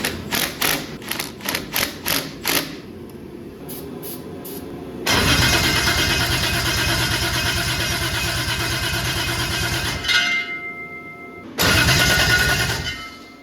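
A Toyota 2JZ engine swapped into a Celica cranks in a rapid series of starter bursts, then fires and runs loud and rough for several seconds, cuts out briefly and roars back to life.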